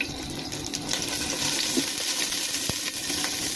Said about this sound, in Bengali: এখন একটু নাড়াচাড়া করবো